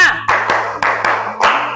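A group claps in short rhythmic bursts during a classroom coaching session, about five sharp sets of claps close by, with a voice talking between them.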